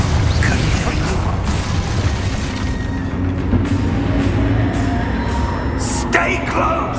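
The Confringo blasting spell goes off in the video game Hogwarts Legacy, a loud, dense, rumbling explosion wash layered with game ambience and a few sharper pops toward the end.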